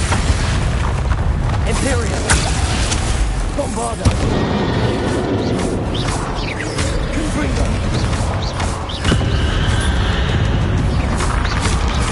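Spell blasts from the PS5 game Hogwarts Legacy: dense, overlapping booms and crackling bursts fill the whole stretch, loud and continuous, with voices calling out over the effects.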